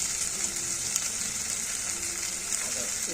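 Tomato frying with turmeric and Kashmiri chili powder gives a steady, even sizzle that runs without a break, with a faint stir or two.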